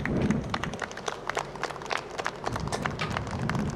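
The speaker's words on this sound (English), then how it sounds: "can give you a round of applause" Audience at a National Vietnam War Day ceremony in Lawrence, Massachusetts gives Vietnam veterans a round of applause, a quiet, somewhat distant patter of many hands clapping steadily throughout.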